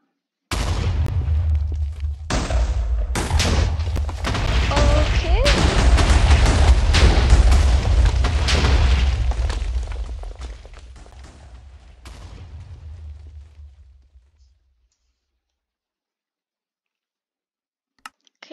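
TNT goes off in the video game Minecraft while blowing up a city, a rapid barrage of booming explosions and crackling blasts building into a loud sustained rumble, then fading out to silence.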